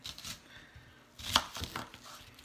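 A knife chops an onion in a few sharp, close taps on a board, with one louder cut in the middle and quiet gaps between them.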